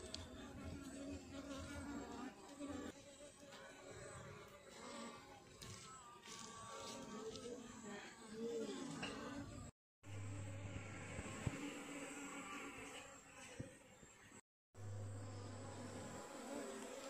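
Honey bees hum and buzz around an open hive during beekeeping, a dense steady drone close by and moderately quiet, with two brief dropouts in the sound.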